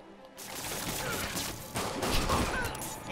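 Rapid bursts of gunfire in the Marvel's Spider-Man video game, a dense, continuous crackle of shots with rising intensity through the clip, loud and busy with no speech.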